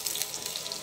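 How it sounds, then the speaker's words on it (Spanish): Tap water runs into a kitchen sink to wash a kettle, a steady soft hiss of flowing water close by and fairly quiet, with no talking. "ya tengo que lavar mi tetera"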